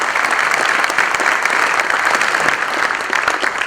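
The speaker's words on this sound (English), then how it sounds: "So, round of applause for all our awesome sponsors and media partners." Loud, steady applause from a conference crowd at the Big Android BBQ keynote, dense clapping filling the room for the event's sponsors and media partners.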